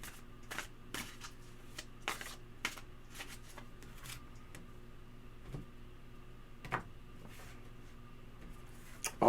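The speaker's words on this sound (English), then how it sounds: "I'm going to try to commandeer these cards here to shuffle correctly" A deck of tarot cards is shuffled in a run of quick, crisp riffles and snaps, close and fairly soft, against a low steady hum.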